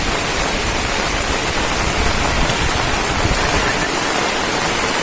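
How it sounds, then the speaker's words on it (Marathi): Heavy overnight monsoon rain in Rajapur, Konkan, pours down in a dense, unbroken hiss, loud and close, with no voices. "खूप मुसळधार पाऊस पाऊस आहे ना थांबण्याचं नावच घेत नाही"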